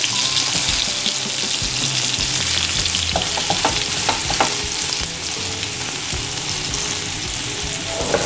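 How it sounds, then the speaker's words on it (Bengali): Eggplant slices sizzling and frying steadily in oil over medium heat, a dense continuous crackle with a few brief clinks of a utensil partway through, no voices. "বেগুনটাকে ভাজতে হবে, তা না হলে পুড়ে যাওয়ার সম্ভাবনা থাকে"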